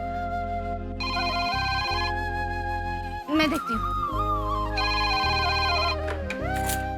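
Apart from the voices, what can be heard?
phone ringing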